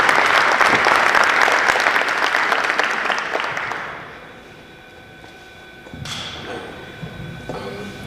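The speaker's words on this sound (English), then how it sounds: "I just want to give Mr. Smith another round of applause for his speech." Enthusiastic audience applause at a youth entrepreneurship panel honors a speech, loud and dense for about four seconds before fading out, followed by a quieter room with a thump and faint movement.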